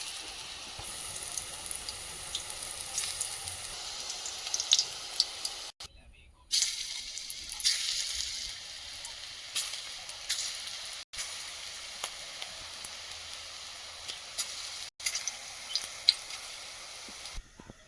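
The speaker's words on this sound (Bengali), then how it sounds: "কড়াইতে যতগুলো ধরে ততগুলো ভাজবো" Bengali pea fritters (bora) fry in a wok of oil with a soft, continuous sizzle and bubbling, heard close but fairly quiet, broken by a few brief gaps and light handling sounds.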